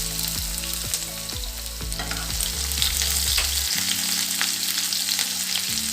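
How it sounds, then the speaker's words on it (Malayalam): Chopped small shallots dropped into hot oil in a pan for bread upma, a loud, steady sizzle and crackle with occasional stirring scrapes, continuous and close with no voices. "അതിലേക്ക് ഒരു 8 ഉള്ളി ചെറുതാക്കി അരിഞ്ഞത് ഇട്ട് കൊടുക്കും."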